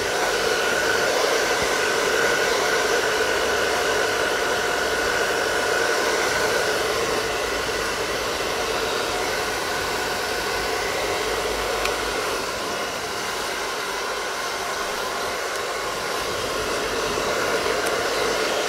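A hair dryer blows steadily on hair, a constant loud whooshing hum with no pauses and no talking.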